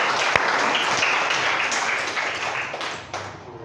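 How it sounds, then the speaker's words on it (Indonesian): A room full of people applauding, dense clapping that holds steady for a few seconds before thinning out toward the end. "Beri aplaus dulu."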